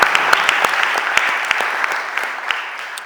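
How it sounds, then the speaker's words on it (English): An audience in a city council committee hearing room breaks into clapping, with a few sharp individual claps standing out over a steady wash of applause that eases slightly toward the end. "Can we clap for that"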